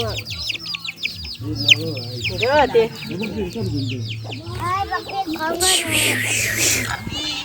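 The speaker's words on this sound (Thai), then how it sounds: "ไก่เอ้ยไก่หลายได้พี่น้อง" Chickens on a Thai family farm in a mango orchard cluck and call repeatedly at close range, with a steady low hum beneath and bird chirps rising toward the end, while people talk throughout.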